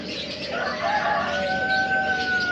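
Chickens sold at a traditional market stall cluck and crow in a steady, busy chorus, fairly loud and close, with a few sustained tonal calls over constant market background noise.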